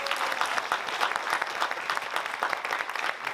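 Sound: audience applause

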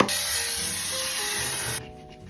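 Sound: makeup setting spray being sprayed

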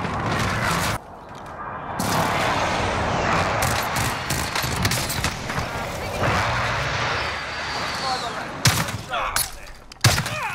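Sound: precision airstrike explosions in Call of Duty Warzone, a video game

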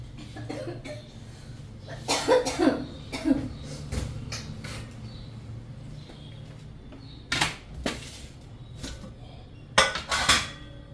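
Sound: coughing

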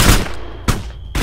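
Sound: gunfire in video game ArmA 3

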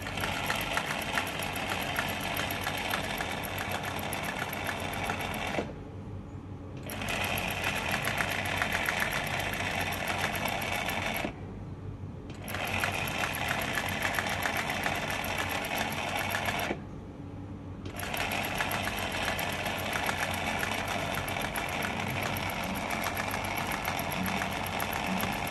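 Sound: Singer 107w100 sewing machine stitching eyelet embroidery

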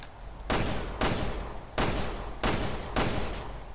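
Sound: gunfire from video game Resident Evil Revelations 2

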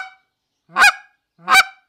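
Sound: goose call imitating several geese honking

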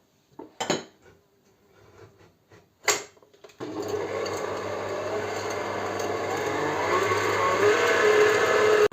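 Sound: mixer whipping eggs with salt and vanilla sugar

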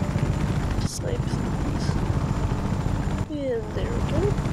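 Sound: helicopter flying in the video game Just Cause 3

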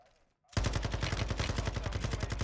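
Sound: sniper rifle gunfire in video game Modern Warfare 2

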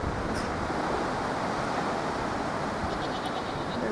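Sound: strong wind blowing

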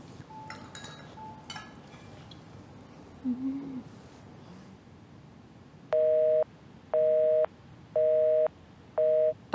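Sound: phone call tone, phone switched off

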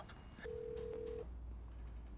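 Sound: phone ringing in video game Need for Speed Unbound

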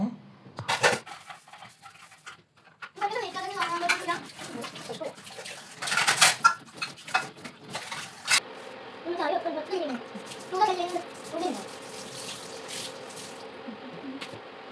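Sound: washing dishes at the sink with running water

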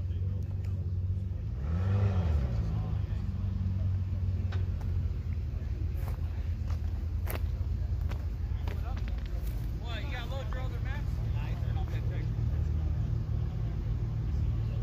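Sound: Corvette and another car drag racing, engines revving

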